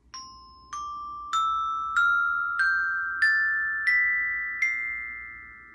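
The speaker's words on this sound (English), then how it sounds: "So I thought we would use my step bells next" Step bells struck one at a time in an ascending scale, eight clear ringing tones spaced evenly about two-thirds of a second apart, each sustaining and overlapping the next, close and alone without talk.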